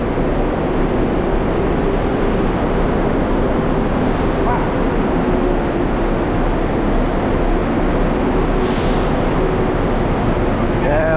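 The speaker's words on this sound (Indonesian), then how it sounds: "Oke, jadi kita akan naik bus ini." A city bus at KLIA airport idles loudly and steadily near the listener, with two brief hissing bursts from its air brakes partway through, amid dense engine rumble and faint background voices.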